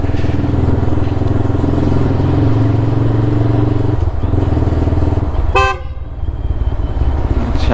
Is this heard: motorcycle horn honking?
yes